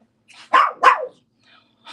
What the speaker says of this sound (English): don't bark at me, okay? No barking.